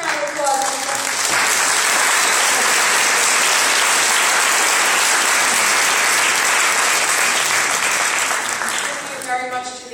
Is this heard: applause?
yes